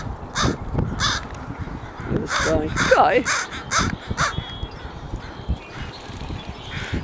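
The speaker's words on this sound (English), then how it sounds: "The crows are noisy." Noisy crows caw repeatedly near open water where blackbirds and gulls also gather, harsh calls sounding close and loud against a windy outdoor background while someone talks over them.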